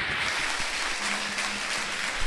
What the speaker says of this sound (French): Applaudis le Seigneur, applaudis le Seigneur.